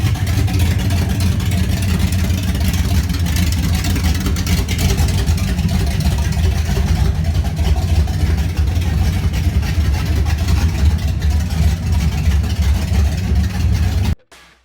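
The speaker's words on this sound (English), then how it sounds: "why don't we go ahead and watch a short clip of a Vortec 350." A Chevy Vortec 350 V8 engine idles steadily with a deep, continuous rumble, close and loud throughout, cutting off abruptly at the end.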